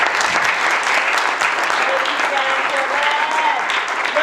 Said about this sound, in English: Look at the soft, weak applause.